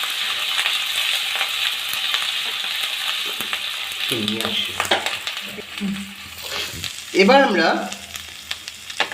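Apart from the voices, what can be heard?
stir-frying dragon chicken on high flame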